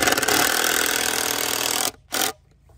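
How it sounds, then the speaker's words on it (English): Power drill driving 3-inch screws into the back of a 2x4 block, a loud continuous motor whir for about two seconds, then a short second burst, close by with no talking. "I'm just screwing into the back of this block"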